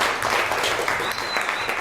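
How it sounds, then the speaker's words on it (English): An audience at a live show claps warmly in a sustained, even burst of applause. The sound is full and close throughout, with a faint voice underneath. "Big round of applause for Lauren."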